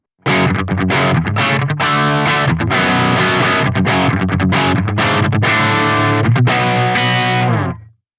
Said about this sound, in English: Here's how my guitar without Overdrive 2 sounds.